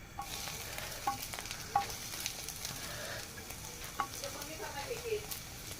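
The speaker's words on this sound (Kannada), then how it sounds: "ಎಣ್ಣೆ ಹಾಕ್ಕೊಂಡು ಬ್ರೆಡ್ ಫ್ರೈ ಮಾಡ್ಕೊಳ್ಳೋಣ್ರಿ" Bread slices fry in oil in a pan, a soft, continuous sizzle with faint crackles and a few light utensil clinks, fairly quiet and free of speech.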